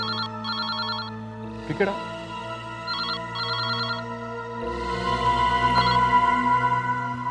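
A telephone rings in a Hindi crime drama, with repeated bursts of bright electronic trills separated by short pauses, fairly loud and close, while people speak over the ringing.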